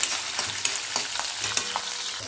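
Peanuts and cut green chilies roast in a hot pan while being stirred, giving a steady dry sizzle with quick scraping taps of the spoon at short, irregular intervals.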